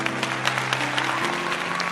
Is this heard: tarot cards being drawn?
no